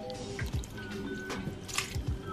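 A small splash of milk pours into a bowl of coated potatoes for an eggless potato omelette, a quiet, close liquid trickle with soft drips and squishes.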